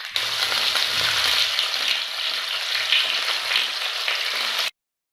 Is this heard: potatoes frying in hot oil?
yes